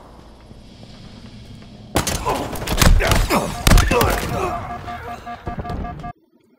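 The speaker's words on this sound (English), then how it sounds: "Here's a clip of me grapple hooking a guy." Halo Infinite match with a grapple hook fired at an enemy, a loud burst of game combat sounds: sharp thuds, impacts and gunfire-like cracks crowding together for about four seconds before cutting off abruptly.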